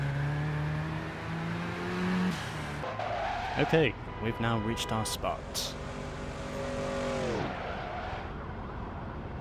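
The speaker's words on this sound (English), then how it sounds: "a Monte Carlo does sound pretty sweet, with that old V8 muscle" Old Chevrolet Monte Carlo V8 muscle car in the PS2 racing game Midnight Club 3 DUB Edition, a loud harmonic engine drone whose pitch sweeps up and down through revs and gear changes, with someone talking over it.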